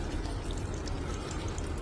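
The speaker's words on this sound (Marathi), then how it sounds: "1 ग्लास पाणी घाला" A glass of water poured into a pot of spinach curry made with garlic, chilli and peanut chutney, a short, close splashing pour.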